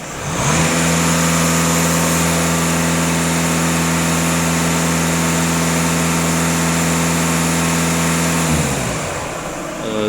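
Skoda Octavia A7 engine held at a fast idle around 2500 rpm, a loud, steady, even drone that settles in after a brief rise and then drops away near the end, with no speech.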